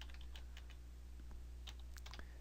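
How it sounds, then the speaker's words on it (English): Soft, rapid keystrokes on a computer keyboard tap out a short burst of text, clicks clustered irregularly and faint against a low steady hum, with no talking. "I'm going to type someone's all in capitals."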